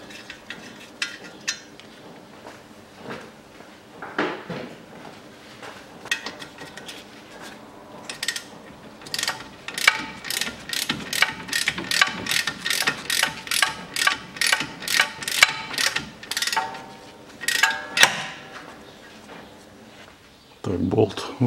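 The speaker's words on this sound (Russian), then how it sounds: "Откручиваем вот эти две гайки." Ratchet wrench loosening the nuts on the front right suspension arm of a 2010 Chevrolet Cruze 1.6, a series of rapid close clicking ratchet strokes in repeated bursts, with someone talking intermittently around them.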